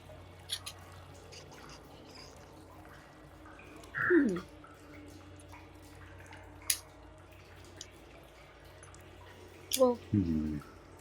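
Sparse water drips echo inside a rock cave tunnel over a low ambient hum, with a few distinct plinks spread across the quiet and faint background murmur.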